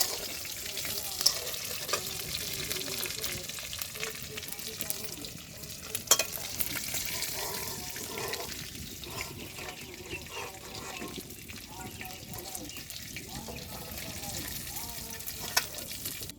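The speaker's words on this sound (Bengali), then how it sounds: "এবার বাদ বাকি মাছগুলো আমি ভেজে নেব।" Baim fish fry in hot oil, giving a steady close crackling sizzle that continues throughout, broken by occasional sharper pops and clicks.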